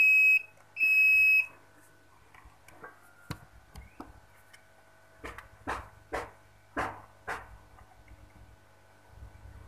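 A multimeter in continuity mode beeps twice on a shorted circuit board inside a Polytron LED TV, two short steady tones followed by a series of clicks and taps as the probes are moved around the board.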